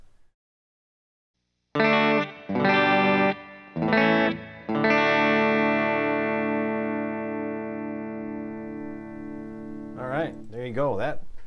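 Recorded electric guitar played back through a guitar amp in a room: several loud strummed chords with a chorus-like shimmer, the last one ringing out for seconds before fading, then a brief wobbling tail of notes.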